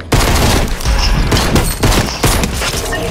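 Heavy, loud gunfire in a Fortnite match, including pump shotgun shots, with booming blasts and overlapping bursts in quick succession that fill the whole moment at close range.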